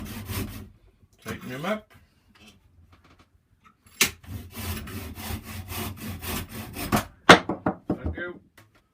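A hand saw cuts straight through the end of a wooden walking stick held in a shaky vise, with rapid rhythmic rasping strokes at close range after some brief talking.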